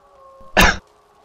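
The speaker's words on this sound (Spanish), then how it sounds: "deja de toser como si te fuese el almanillo" One short, forceful cough or throat clear bursts out close by, alone over a faint steady hum, with no talking.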